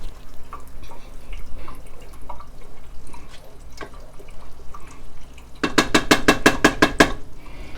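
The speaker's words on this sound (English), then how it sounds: "Give that a good stir." A spoon scrapes and clinks around a pot of tomato sauce on a low flame, with soft wet stirring sounds that end in a burst of rapid, evenly spaced metallic knocks against the pot.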